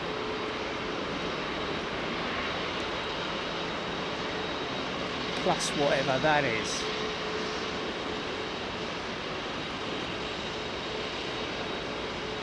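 Jet engine roar from an airliner with GEnx engines at Heathrow fills the air as a broad, constant rumble and hiss, with a brief swelling whine midway and someone talking over it.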